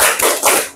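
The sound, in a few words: class doing a spirit clap (tepuk semangat)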